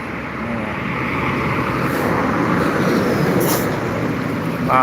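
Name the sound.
truck passing on the Jalan Lintas Timur highway, Palembang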